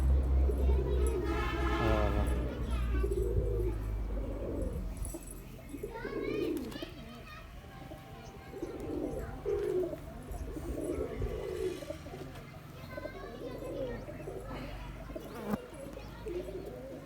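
Low, soft cooing of pigeons repeats in rounded bursts throughout, close by, with someone talking at the start and scattered background noise.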